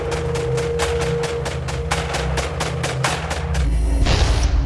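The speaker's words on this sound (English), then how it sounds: "Terrorized students fled when they heard shooting in the hall." Repeated sharp gunshots ring out in a school hallway in irregular bursts over a low drone, followed by a heavier blast at the end, with no talk.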